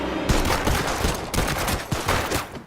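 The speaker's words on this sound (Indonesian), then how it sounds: "Zo, Park, dan Joko sama-sama terkena tembakan." Gunfire in a Korean spy film, a loud rapid volley of overlapping shots in dense bursts with short gaps, close and sharp, with no voices.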